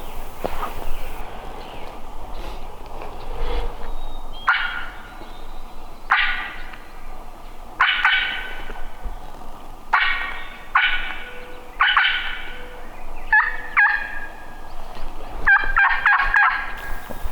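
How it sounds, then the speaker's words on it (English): Wild turkey gobbler gobbling in spring river-bottom woods, several rattling gobbles repeating every couple of seconds at moderate distance, with faint rustling between and no talk. "That was a gobbler, right?"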